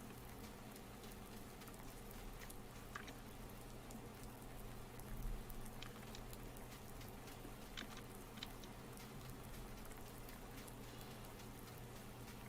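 Rain falls inside buildings in Farming Simulator 19, a faint, steady patter with scattered drops, continuous and alone, no talking.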